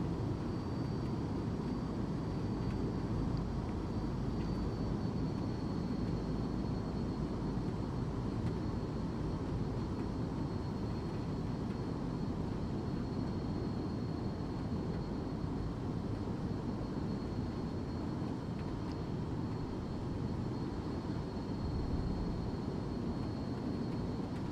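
Steady turboprop drone of a Beechcraft Super King Air in a flight simulator, a continuous, even cabin hum with a faint high whine and no talk.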